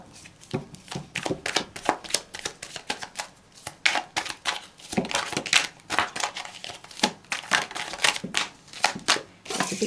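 Tarot cards are shuffled and pulled for a psychic reading. A quick, close run of crisp riffles and snaps repeats in an uneven rhythm, with no voice.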